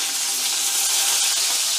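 Green chilies crackling in hot oil with curry leaves as tempering for Maharashtrian potato bhaji, a steady close hiss and sizzle with no talking.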